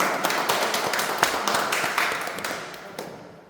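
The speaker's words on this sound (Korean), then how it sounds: "여러분, 뜨거운 박수로 환영해 주시면 감사하겠습니다." An audience at a forum applauding to welcome a speaker, a steady wash of many hands clapping with sharper individual claps, fading out toward the end.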